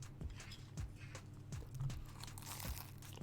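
Someone bites and chews something crunchy right into a streaming microphone, producing repeated close crunches and crinkly snaps in an irregular rhythm.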